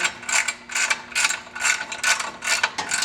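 A socket wrench ratchets steadily while tightening skid plate bolts on a Victory motorcycle, a close, crisp clicking in repeated quick bursts with no talking.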